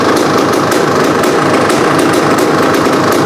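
A Honda CR500 two-stroke dirt bike fitted with a cheap eBay carburetor idles on its own, a loud, steady, buzzing engine drone close by with no pauses.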